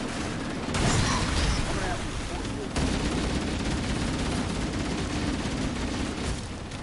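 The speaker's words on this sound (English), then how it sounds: "Firing at target. Hey, Repositioning. Taking fire!" Dense gunfire in a Halo campaign battle crackles loudly in continuous bursts with booming impacts, and voices call out under the shooting.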